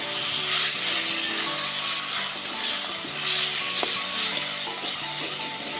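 Eggplant and potato greens fry in a pan with a loud, continuous hissing sizzle, close up, swelling slightly now and then with light stirring taps, no voices.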